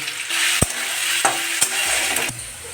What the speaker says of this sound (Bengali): এই রেসিপিতে আলুগুলোকে একটু ভালো করেই ভেজে নিতে হবে